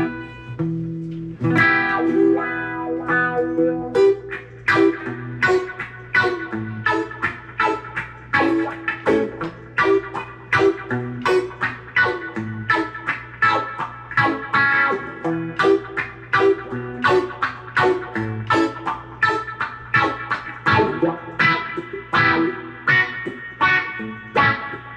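A Mitchell MD400 electric guitar plays clean, coil-tapped tones, a continuous run of picked notes and chords with even rhythm throughout, close and alone without any talking.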